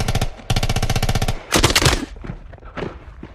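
Rapid bursts of automatic gunfire, a sustained rattling volley followed by a few louder, scattered shots, close and harsh.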